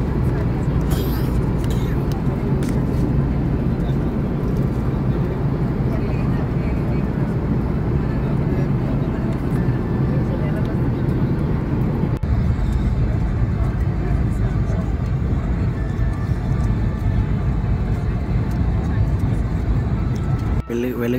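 A steady, loud roar fills an Air India airliner cabin in flight from Dubai to Hyderabad, a constant low drone that does not change.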